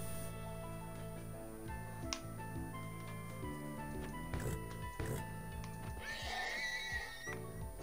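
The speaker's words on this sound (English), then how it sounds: "Also, I'm just killing this horse." Horse neighing from Minecraft, a whinny rising clearly over a steady game soundscape with music-like tones, along with some squishy, liquid-sounding hits.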